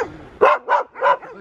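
Greyhounds or whippets barking nearby: three sharp, loud barks in quick succession, evenly spaced, with no talking.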